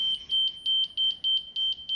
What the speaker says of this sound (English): That beeping sound is identifying or letting you know that you're not perfectly plumb.